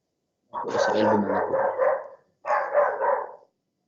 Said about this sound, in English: لديك كلب يا هذا؟